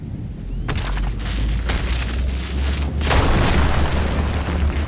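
A heavy booming crash hits, followed by sharp crackling bursts over a continuous low rumble, loud and close, with no voices.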